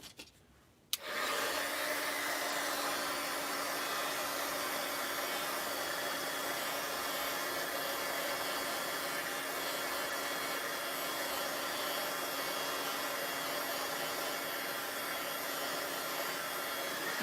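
Hair dryer switched on to dry paint, blowing with a steady, close, loud whooshing drone after a brief quiet start and running without break to the end.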